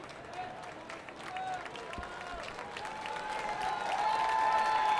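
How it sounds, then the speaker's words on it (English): A baseball stadium crowd at a St. Paul Saints home game against the Laredo Lemurs cheers and applauds for a batter in a two-out count, a broad, steady roar that swells louder toward the end. "He gets a loud cheer from the crowd as they try to pump him up here."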